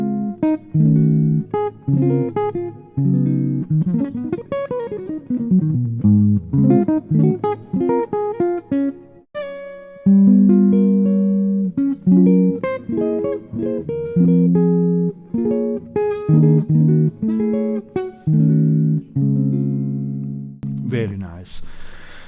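Jazz guitar with full chords mixed into single-note lines, played up close for about twenty seconds and heard alone without talk.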